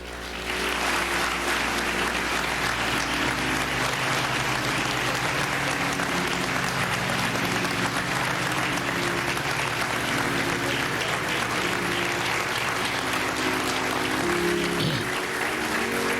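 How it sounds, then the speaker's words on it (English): A large crowd at a memorial gathering for George Floyd gives a loud, sustained round of applause for the Reverend Al Sharpton, dense clapping filling the whole stretch with a low rumble of crowd noise beneath. "Please give a great round of applause for the Reverend Al Sharpton."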